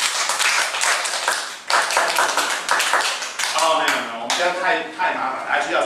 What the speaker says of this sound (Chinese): 好棒，来掌声三下